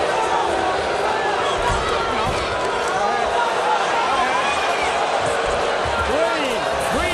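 A large crowd at an NCAA wrestling championship arena lets out a low, rising collective moan beneath steady commentary, the broad murmur sustained and fairly loud throughout.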